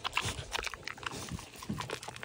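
Wet, crunchy chewing and biting sounds from a pig eating close by at an animal sanctuary, irregular smacks and crunches with a few snorts.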